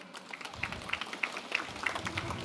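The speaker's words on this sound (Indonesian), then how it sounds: "tepuk tangan" Moderate applause from an audience at the inauguration of the BAZNAS building in Tuban during an orphan and needy charity gathering, a fairly distant, steady patter of clapping with slightly rhythmic peaks and no speech over it.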